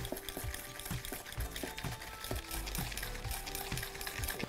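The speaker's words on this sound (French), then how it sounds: "Et maintenant, on va fouetter." Sugar is whisked by hand in a stainless mixing bowl, a quick, rhythmic scraping and tapping of the whisk against the bowl, close and steady for several seconds.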